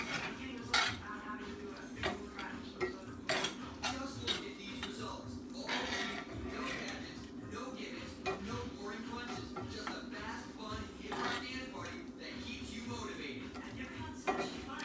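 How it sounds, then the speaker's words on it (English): Ingredients mixed with garlic in a bowl for home cooking: repeated clinks and scrapes of a utensil against dishware, steady and fairly quiet, with a voice speaking intermittently over the clatter. "So I'm mixing everything together right now."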